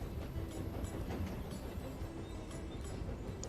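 Train running in the video game Tiny Rails, a continuous rumbling rail roll with faint rhythmic clicks, steady and fairly quiet throughout.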